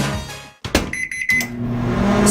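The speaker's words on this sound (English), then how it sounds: "Stop using the microwave." A microwave oven beeps a few times in quick succession, loud and close, set among the sound of a radio advertisement.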